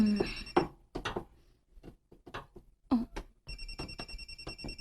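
A mobile phone rings with an incoming call in a home kitchen, a repeating electronic ringtone with steady tones and pulses, heard close with household clatter and a brief voice.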